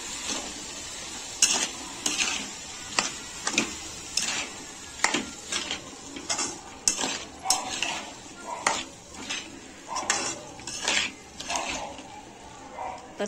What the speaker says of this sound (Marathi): ह्या भाज्या मिक्स करून घ्यायच्या आहेत।